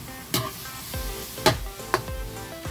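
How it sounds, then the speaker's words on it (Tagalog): Ground meat browns in a hot pan with a steady sizzle, broken by three sharp scrapes and clatters of a utensil stirring against the pan, close and clear with no speech. "Tapos ilalagay ko tong giniling. Hanggang mag-dry yung hanggang mag-brown siya."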